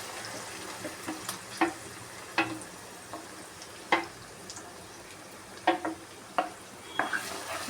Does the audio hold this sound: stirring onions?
yes